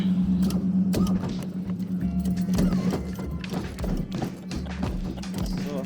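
Hydraulics on a lowrider car clunk and whir as it hops, in repeated mechanical thumps and taps over a steady hum, heard up close.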